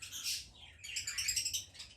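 A pure-line breeding bird in a show-bird aviary chirps in two bright bursts of rapid high tweets, faint and alone.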